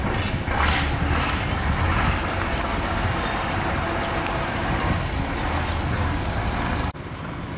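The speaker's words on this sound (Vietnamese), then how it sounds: "Tới ghe anh chở đất này qua đây các bạn." A loaded iron boat carrying soil approaches on a river near a stone landing, its steady engine drone and water wash continuous and fairly near, with a brief drop in level near the end.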